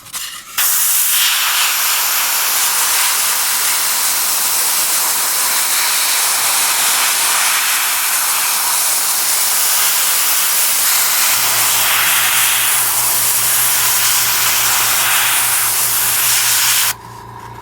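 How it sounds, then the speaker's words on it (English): A steady, close hiss of an airbrush spraying paint onto the sand groundwork of a King Tiger tank model runs continuously for many seconds, with a faint low hum joining partway through. "I'll spray this bit of sand that we did here with no black."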